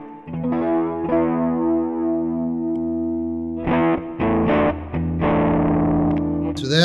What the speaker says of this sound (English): I'll put some reverb on.